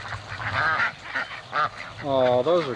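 Baby ducks being fed give several nasal quacks and squeaky honks, close by and in short bursts, while people talk over them.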